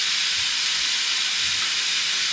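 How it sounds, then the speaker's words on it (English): Hamburger patties seasoned with salt and pepper sizzle steadily in a hot skillet, a loud, continuous bright hiss with no talking. "My skillet is nice and hot, and I'm gonna just throw them in."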